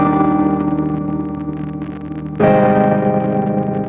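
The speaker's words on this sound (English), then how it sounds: "You can hear it adds a lot of static, a lot of warble" A synth run through the AudioThing Wires lo-fi plugin at its default setting, its sustained loud chords blurred with crackling static and wavering pitch warble, shifting to a new chord partway through.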